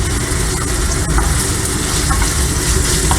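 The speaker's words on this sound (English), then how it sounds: "So you let it come to you fry it up a little bit." Steady, dense sizzle of food frying in a pan for an Italian pasta dish, a continuous loud crackle with no talking over it.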